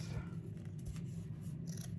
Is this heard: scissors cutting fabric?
yes